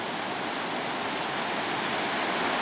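Ocean waves break over rocks on the coast at Belmullet, a loud, steady rushing roar of surf and spray that fills the whole moment without pause.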